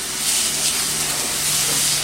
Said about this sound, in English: while this is going on, we saute the rice little